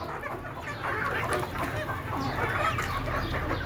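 Native country chickens kept at home clucking nearby, soft repeated clucks and murmuring calls over a low farmyard background, no talking heard.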